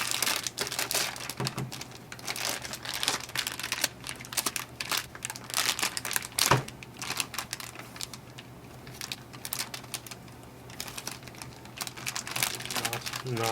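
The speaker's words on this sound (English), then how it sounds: "the first thing it wants us to do is unwrap the drum cartridge" Packaging for a Panasonic KX-MB2030 drum cartridge is unwrapped up close, with continuous crinkling and crackling of plastic, sharp rustles and one louder snap midway.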